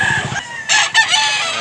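Rooster crowing at a Thursday livestock market in Mantalungon, Barili, Cebu: a loud, close crow in two bursts, with faint market clucking and murmur behind it.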